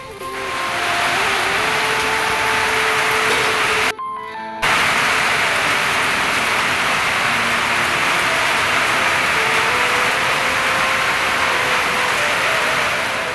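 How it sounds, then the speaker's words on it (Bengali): Sudden heavy rain pours down steadily as a dense, loud hiss on a dark, windy day at a home, briefly cut out once, with no voices. "হঠাৎ করে ঝমঝম করে বৃষ্টি শুরু হয়ে গেল"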